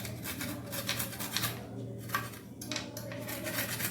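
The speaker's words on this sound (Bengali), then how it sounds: "ওই একইভাবে গেটারে বড় ছিদ্র দিকটায় এই আলুটাকেও গ্রেট করে নেব" Potato scraped over the large holes of a box grater, a quiet run of rhythmic rasping strokes with brief pauses between passes.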